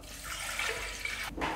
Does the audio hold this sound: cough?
no